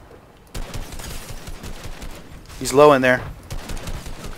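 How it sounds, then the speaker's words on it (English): Rapid bursts of video game gunfire crackle in the mid-distance, ongoing through most of the moment and swelling briefly near the middle, with a voice talking over it. "It sounds like somebody's shooting at him."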